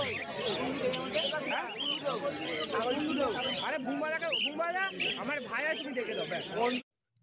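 Many caged lovebirds chirp and chatter at the Uluberia bird market, a dense, busy flock of high tweets right up close, with people talking in the crowd. It stops abruptly at the end.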